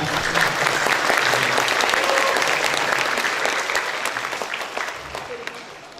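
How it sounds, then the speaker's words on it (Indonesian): At a new-student welcome for FMIPA ITB, a large audience gives sustained, dense applause to welcome guest Ratu Tisha, loud at first and slowly fading, with faint voices mixed in beneath. "tepuk tangan untuk Ratu Tisha"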